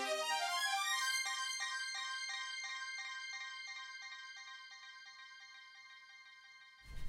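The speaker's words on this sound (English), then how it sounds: "It's just a quick burst of notes in a scale that also helped me transition to the next" Bright synthesizer keys fire a quick burst of scale notes that then ring out and repeat in a fading, echoing pattern, alone and moderately quiet, with a sharp noise right at the end.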